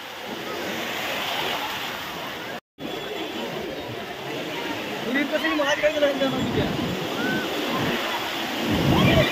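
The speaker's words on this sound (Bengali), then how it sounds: "ঢেউ, দেখো ঢেউ" Ocean surf on the beach at Puri: a continuous broadband wash of breaking waves with wind buffeting the microphone and a brief dropout early on, as the roar builds toward the end, with voices faintly mixed in.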